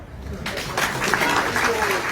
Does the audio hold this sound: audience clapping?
yes